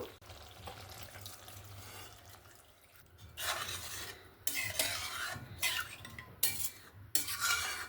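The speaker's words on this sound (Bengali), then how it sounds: "এবার আমি এখানে পরিমাণ মতো জল দিয়ে দেব।" Water splashes and streams into a pan of cooked masala for a Punjabi-style fish curry, arriving in several loud bursts over a low steady background.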